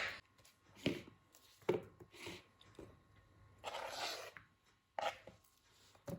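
A knife cuts banana into pieces on a board, with several irregular soft thuds and cuts and one longer scraping sweep, fairly quiet and close.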